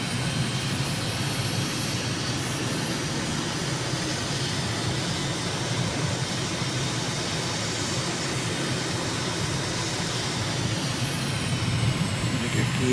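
Jet airliner engines spooling up on final approach in Microsoft Flight Simulator, a steady, dense roar with a faint high whine running unbroken throughout, loud and close with no voices.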